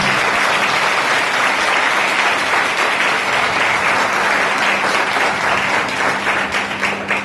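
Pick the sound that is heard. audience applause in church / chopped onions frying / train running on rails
audience applause in church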